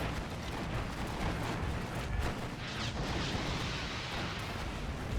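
Rocket ground attack with 132 mm HE rockets in the wartime strategy game Steel Division 2, a dense, continuous rumble of blasts and barrage fire filling the whole stretch at steady loudness, with no voices.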